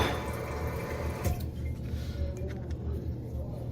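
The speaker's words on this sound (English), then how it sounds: "You can hear the toilet filling up." Water rushes and trickles steadily into a toilet tank as it refills, a continuous hiss with a brief louder splash partway through, close by.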